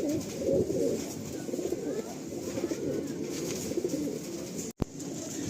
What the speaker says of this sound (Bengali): এক একটা টপ নচ কোয়ালিটির পায়রা রয়েছে এই লফটে।